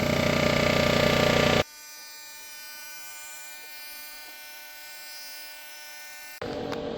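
A machine takes a light cut across a Honda B-series cylinder head, giving a loud, steady high-pitched whine that drops abruptly to a quieter humming run, then returns near the end.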